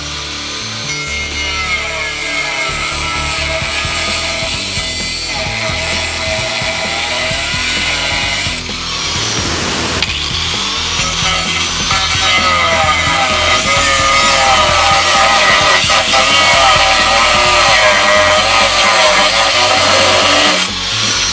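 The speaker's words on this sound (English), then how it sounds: "4x4 piece of lumber that I'm going to step on here while I make the cut here" Saw cutting through a 4x4 piece of lumber while it is stepped on to hold it, a loud continuous rasping bite with rhythmic strokes, close and unbroken for the whole stretch.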